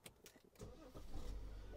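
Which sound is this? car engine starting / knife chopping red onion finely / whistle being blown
car engine starting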